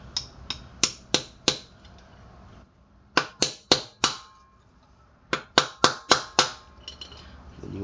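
Small hammer striking an old wheel bearing race on a 1998 Toyota Tacoma 2.4 two-wheel drive, ringing metallic taps in three quick groups of four to six blows with short pauses between.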